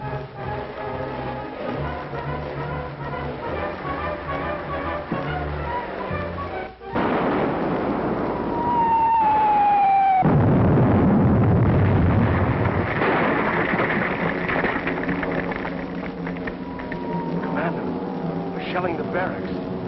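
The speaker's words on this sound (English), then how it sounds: "Shelling the barracks." Artillery shells the barracks in an old film: a few heavy booming blasts and rumbling, with a whistling shell in flight, break in after talk and fade into lingering roar.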